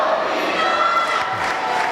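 Crowd at an independent women's wrestling match cheers in a steady, loud roar that fills the arena without pause, with no clear single voice rising above it.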